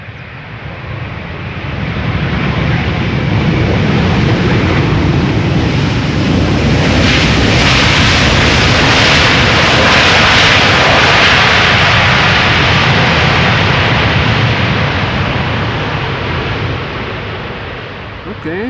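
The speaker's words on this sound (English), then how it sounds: "777-300 arriving from Lima" A Boeing 777-300 jet airliner roars past on landing at Schiphol's Polderbaan, swelling to a loud sustained rumble and hiss as it passes overhead, then slowly fading.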